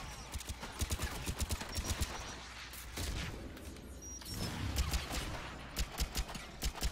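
Rockets and gunfire in the video game Mass Effect 3, a rapid series of sharp clattering shots with scattered muffled blasts, steady rhythmic bursts that swell in the middle and come back toward the end.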